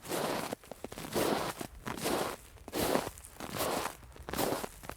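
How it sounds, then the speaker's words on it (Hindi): Footsteps crunch through snow toward a tent, a steady series of soft crushing steps in an even walking rhythm with faint crackle between them, fairly close and alone without any voices. "बर्फ पर चलने की नाकाबिले तरदीद आवाज जो मेरे खीमे की तरफ बढ़ रही थी।"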